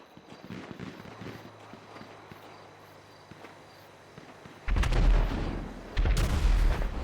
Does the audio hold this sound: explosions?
yes